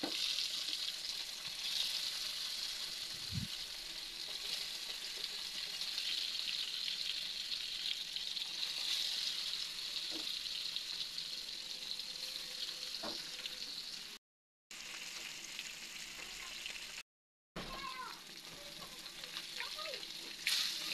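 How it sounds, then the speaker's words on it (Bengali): Tilapia pieces frying in hot soybean oil in a kadai on a stove, a soft steady sizzle with occasional crackles and a few stirring or turning sounds, fairly quiet and without speech. "মাছগুলো ভালোভাবে ভেজে নেব।"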